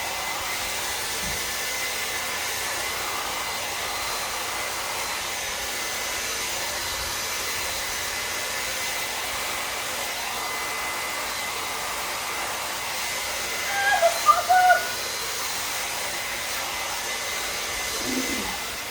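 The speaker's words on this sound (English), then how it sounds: "I hope this hairdryer works" A hair dryer blows steadily for the whole stretch, a constant close whooshing hum with a few faint knocks and rattles near the end.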